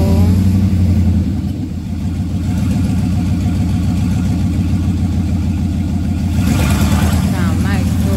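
A 1994 Chevrolet Silverado with factory open headers idles and revs loudly nearby, its deep lopey exhaust rumble steady throughout with a rising surge of throttle near the end.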